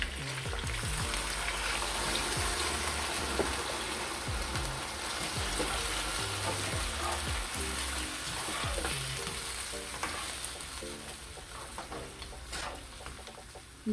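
Saved marinade liquid poured into a hot pot of Trini-style stewed oxtails, setting off a steady, close sizzle with bubbling and stirring that runs throughout and carries on without any talk.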